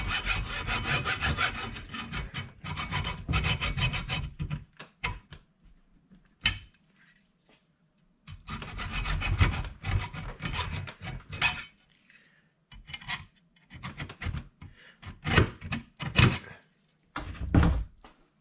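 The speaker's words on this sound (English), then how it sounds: "Scratch it with a hacksaw all around the circle." A hacksaw cuts through a steel bolt and nut in close, loud rasping bursts of rhythmic back-and-forth strokes. Short pauses separate the sawing runs, and a few knocks and taps fall between them.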